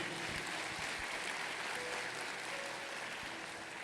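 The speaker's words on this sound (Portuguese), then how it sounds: "Dê uma salva de palmas a ele," A church congregation at a Sunday service applauds, giving a steady, even round of clapping that fills the room at a moderate distance, with no voices on top.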